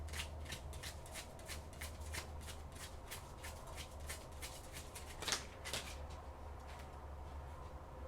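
Oracle cards being shuffled and drawn by hand during a reading: a steady run of soft, papery riffling strokes with a few sharper flicks, close and fairly quiet, with no talking.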